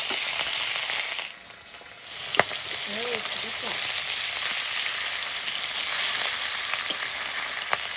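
Pomfret fish fry in hot oil, a continuous close sizzling hiss with a brief dip and a few faint clicks, alone without talk.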